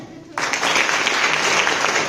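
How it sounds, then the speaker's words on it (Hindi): A crowd bursts into applause after a brief quiet moment, dense clapping that holds steady and loud to the end. "इसके लिए ताली बजाओ।"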